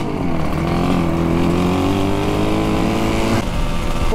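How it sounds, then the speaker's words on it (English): A Suzuki RG500 motorcycle engine runs loud and close, its revs shifting in a sustained buzzing tone before a quick change in pitch near the end. "I think this has just become my best sounding motorcycle of all time"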